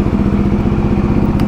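Benelli TRK 251 motorcycle engine running close by, a loud, steady, throbbing low idle with even rapid pulses and no talk over it.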